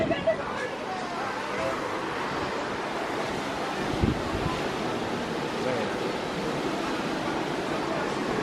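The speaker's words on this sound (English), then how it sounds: "Very windy. Apologize for the wind." Strong wind on a Carnival Dream cruise ship deck at night, a constant roaring rush buffeting the microphone with broad, steady noise throughout, with a faint wash of sea beneath.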